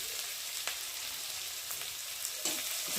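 Garlic and onion fry in a pan of oil with a steady, soft sizzle, broken by a few faint clicks of stirring, close and continuous.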